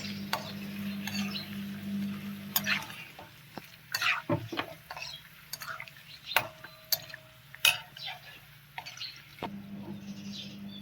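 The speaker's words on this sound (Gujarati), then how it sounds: "સતત હલાવતા રહીશું એટલે આપણી વેફર આમ સરસ તળાઈ જશે" Banana wafers fry in hot oil in a pan while being stirred steadily, giving a soft continuous sizzle broken by scattered clicks and scrapes of the spoon against the pan.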